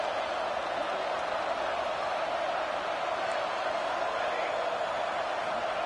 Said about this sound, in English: Crowd is loud, hoping for a 4th down stop.